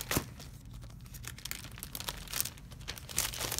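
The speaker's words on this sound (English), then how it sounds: "I'm sorry for the crinkling sound." Plastic wrapping on a 12 by 12 paper collection pack crinkles and crackles close up, in irregular bursts with a sharp tear-like snap near the start, and no talking.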